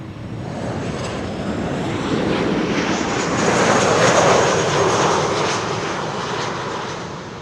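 An airplane passes at Amsterdam Schiphol Airport, a loud broadband jet roar building to a peak midway and easing off, close by and continuous with no voices.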